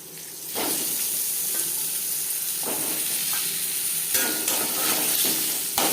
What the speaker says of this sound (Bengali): তেলের সাথে আলু ভালো করে মিক্স করে দেবো